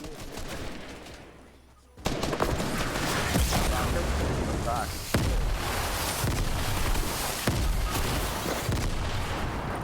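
Rapid bursts of automatic gunfire and heavy booming shots in a video game shootout, loud and continuous after a brief quieter lead-in, with sharp impacts punctuating the barrage.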